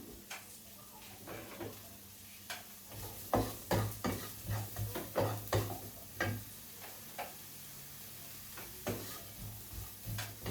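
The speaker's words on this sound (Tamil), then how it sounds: "ஒரு சின்ன வெங்காயம் வெட்டி வச்சிருக்கிறேன் இப்போ அதையும் சாதமாக வதக்கி எடுக்க போகிறேன்" Chopped small onion sautés in a pan with a soft, quiet sizzle, broken by a run of light spatula taps and clicks in an uneven rhythm.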